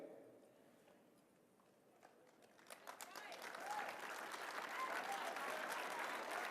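Audience applause at the CPAC 2019 conference, starting faint and swelling from about halfway into a dense, steady wash of many hands clapping across a large hall, with no voices over it.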